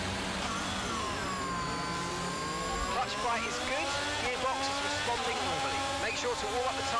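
F1 car engine in the F1 22 video game running a formation lap, a steady high-pitched whine with shifting revs and some tire squeal, loud and continuous, with a voice talking over it.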